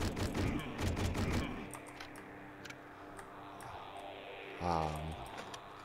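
Shotgun blasts in the video game Hedon, with a burst of heavy shots up front followed by quieter scattered reports and one more loud booming shot near the end.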